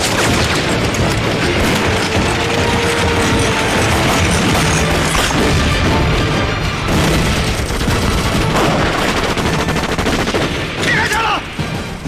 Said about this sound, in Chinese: 我怎么听着有机枪的声音呢